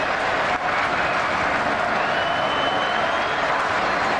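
A record crowd at a Phillies at Baltimore Orioles baseball game at Oriole Park at Camden Yards in 2003, cheering and applauding as a dense, steady roar filling the stadium from start to finish.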